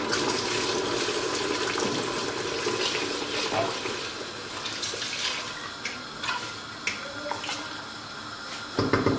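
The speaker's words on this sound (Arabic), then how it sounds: "بعد ما كيتقلى لينا اللحم ديالنا مزيان، كنضيفوا ليه الماء" Water is poured into a pot of frying meat while cooking Moroccan couscous, producing a faint, continuous splashing and hissing with a few small clicks and pops, with no talking.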